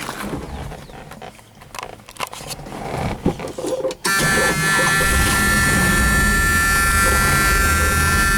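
A 1978 Plymouth Super Coupe engine comes to life partway through after some rustling and handling noise, then runs at a steady, loud, close idle with an even drone to the end.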